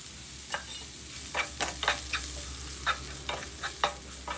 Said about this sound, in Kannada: ಎಲ್ಲ ತರಕಾರಿ ಜೊತೆ ಹೊಂದ್ಕೊಳ್ಳೋದು ಹಂಗೆ ಮಿಕ್ಸ್ ಮಾಡ್ಕೊಳ್ಳಿ